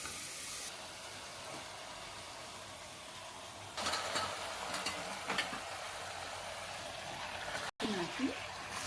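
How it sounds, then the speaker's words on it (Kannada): Chicken going into frying green masala and being stirred, a steady sizzle with louder scraping and stirring in the second half, heard close with a brief dropout near the end. "ಹಾಕಿ ಚೆನ್ನಾಗಿ ಮಿಕ್ಸ್ ಮಾಡಿ. ಮಸಾಲೆ ಎಲ್ಲ ಚೆನ್ನಾಗಿ ಹಿಡಿಬೇಕು. ಆ ಥರ ಚೆನ್ನಾಗಿ ಮಿಕ್ಸ್ ಮಾಡಿ ಚೆನ್ನಾಗಿ ಫ್ರೈ ಆಗಬೇಕು."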